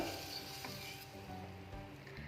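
Green gram and turmeric being stirred together in a pressure cooker, a soft continuous sizzle and scraping swish, quiet and close with no voices.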